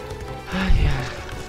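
Horse in a video game galloping toward the player, a brief rumble of hoofbeats rising and fading, with a voice speaking over it.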